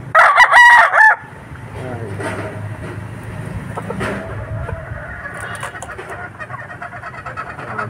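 A 5-month-old heavy-boned, green-legged rooster crows loudly and close at the start, then fades into a quieter mix of clucking hens and low murmuring voices.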